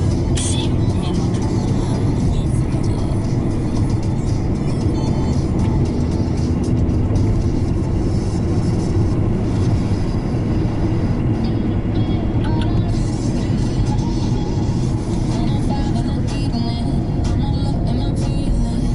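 Inside a taxi on the move, a car's steady road and engine drone fills the cabin, loud and unbroken throughout.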